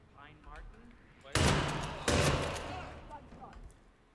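Two loud, sharp gunshot bursts in Hitman 3 crack out close together, each with a brief rumbling tail, amid faint background voices.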